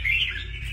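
A red-whiskered bulbul gives a single short, bright call close by, a brief sharp chirp over low background hum.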